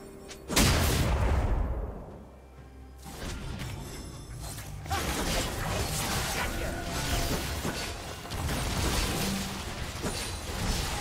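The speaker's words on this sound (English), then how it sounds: "Red Team's turret has been destroyed." A turret being destroyed in League of Legends: a heavy crash and rumbling collapse followed by crackling debris and mechanical clatter, loud and close, fading into continued game noise.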